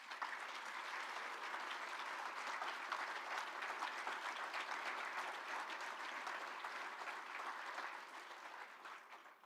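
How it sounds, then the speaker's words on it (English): Steady, dense applause from graduates at a university graduation celebration, continuous and even for about nine seconds before fading slightly at the close. "So give yourselves a round of applause."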